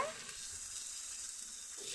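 Giant taro (man kochu) frying in a pan gives a steady, close hiss and sizzle that holds evenly throughout, with no talking over it.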